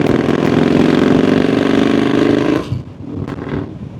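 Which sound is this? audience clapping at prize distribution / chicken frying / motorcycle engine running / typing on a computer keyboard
motorcycle engine running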